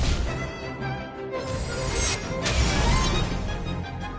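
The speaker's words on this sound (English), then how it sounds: "Rock shattering slash!" Rock-shattering slash attack effect in a video game: a dense, bright crash of smashing debris with sharp impacts, loud and close, sustained over several seconds.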